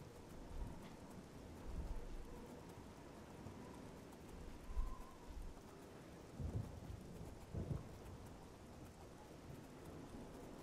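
Rain and thunder in the video game Oblivion while riding a horse at night, a steady soft patter of rainfall with low rumbling thunder swelling a few times, fairly faint overall.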